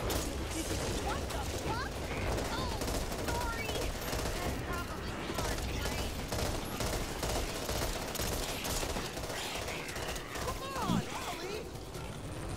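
Rapid, sustained gunfire from the player's weapon in the shooter game Back 4 Blood, dense bursts of shots that continue almost without pause, with someone talking over the shooting.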